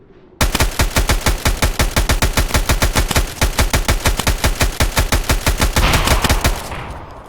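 Rapid automatic gunfire in the video game Escape from Tarkov fires as one long, loud, close burst of evenly spaced shots that runs for about seven seconds and then stops abruptly.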